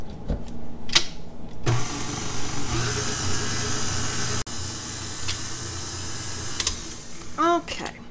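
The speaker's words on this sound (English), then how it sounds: "now we're going to whisk this to make sure that our butter is good and mixed in well" Butter whisked into homemade pastry cream for eclairs, a steady close-up mechanical whirring with a rhythmic pulse, loud and continuous with brief breaks and a voice at the end.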